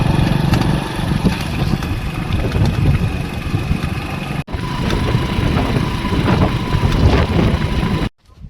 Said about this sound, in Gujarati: જો ગાઈઝ હવે નીકળી ગયા છે ઘર તરફ, બાઇક ઉપર જઈ રહ્યા છે